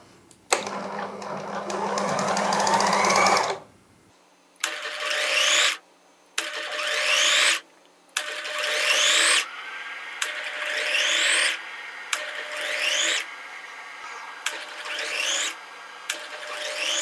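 Sewing machine stitching a round-hem kameez: a long run of rapid mechanical clatter, then repeated short bursts of stitching separated by brief pauses, close and steady with a rhythmic whirring, no talking.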